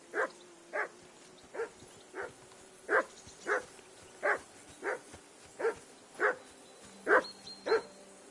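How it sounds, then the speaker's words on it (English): A dog in Kingdom Come: Deliverance II barks steadily, about a dozen evenly spaced barks at a moderate distance, alone without talk. "That dog of yours is barking like the devil."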